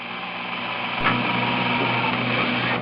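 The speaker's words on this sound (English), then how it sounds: "I'm just drilling the spot weld holes" An electric drill whines steadily while boring out spot welds in the floor pan of a 1976 Mazda RX-5, a close continuous motor hum with a slight bump in load partway through.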